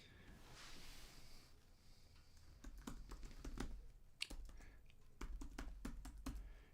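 Typing on a computer keyboard, heard as a run of quiet, close key clicks in an irregular rhythm over a low rumble, with no one speaking.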